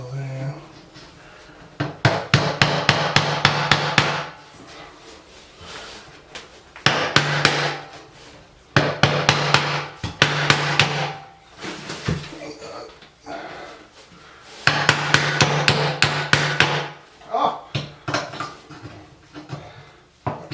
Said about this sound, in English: put a nail here, nail there